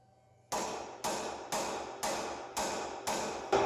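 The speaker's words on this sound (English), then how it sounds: "Take a few swings with a hammer and" Seven sharp metallic hammer strikes on a CV axle of a 2000 Honda CR-V land at a steady, even pace, each ringing briefly before the next blow.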